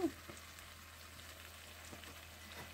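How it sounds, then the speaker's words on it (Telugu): Tempering crackles in hot oil after ginger-onion paste has been fried, a faint, steady sizzle with a few soft pops, heard alone. "ఇవి వేగాక పోపు పెట్టా అన్నమాట."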